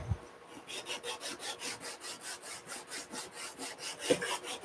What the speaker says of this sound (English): I'm going to have to take care of that with a little bit of sanding